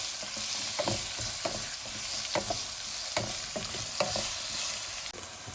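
Onions sautéing in a pan with ginger garlic paste and green chilies for a Kerala-style prawn biryani. A steady close sizzle carries irregular scraping and clacking stirs throughout, with no talk.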